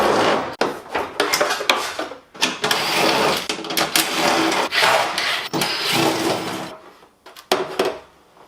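Fender removal on a widebody Subaru BR86 build brings a busy stretch of loud, close clanks, rattles and scraping bursts, with irregular knocks and brief pauses between them.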